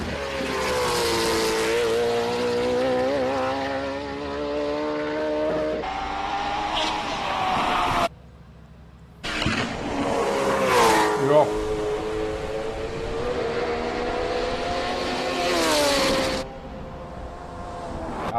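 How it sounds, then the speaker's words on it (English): A race car at the Simola Hillclimb revs hard through the gears, loud rising and falling engine howls with a brief drop-out, then another climbing pass, while a commentator talks over it. "Perhaps one of the most beautiful sounding cars that we have here."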